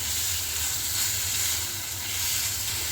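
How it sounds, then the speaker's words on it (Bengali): Small chopped chicken pieces sizzle steadily in a pan for spaghetti, an even hissing fry with a low hum beneath and no talking. "দিয়ে দিচ্ছি 1 কাপ চিকেন কুচি, ছোট টুকরো করে কেটে নিয়েছি চিকেনটা আমি।"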